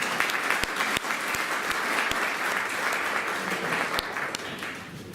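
An audience applauds steadily at a community launch event in the Houses of Parliament, London, a dense even wash of clapping with a few sharper individual claps standing out near the front.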